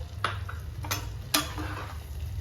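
Peas stirred into a tomato masala in a pan, a low frying sizzle underneath a few sharp scrapes and clinks of the spoon against the pan, close with no voices.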